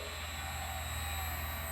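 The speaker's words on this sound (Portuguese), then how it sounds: "ele faz o motor parar de funcionar. Entra em rampa de desaceleração até que ele chega a 0 Hz." Electric motor winding down along a deceleration ramp under a frequency inverter toward a stop, a steady close hum and whine with a faint pulsing low drone and no voices.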